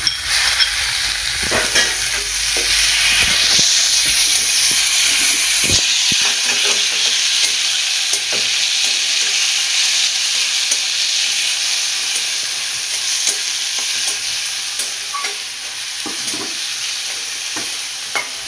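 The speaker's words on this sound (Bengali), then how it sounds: "লাল লাল করে ভাজবো গোল্ডেন ফ্রাই ভাজবো পেঁয়াজ" Onions and tomatoes fry in a pan for a spicy mutton curry, a steady loud sizzle and hiss running throughout with repeated scraping stirs of a spoon, no voices.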